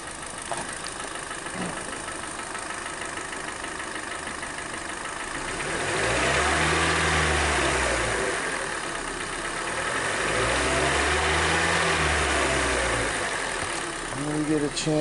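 A Kia Soul engine idles quietly, then rises twice in slow swells as the accelerator is pressed and eased off, with the steady hum settling back down between them.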